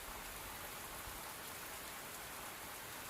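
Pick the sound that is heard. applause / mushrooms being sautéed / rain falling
rain falling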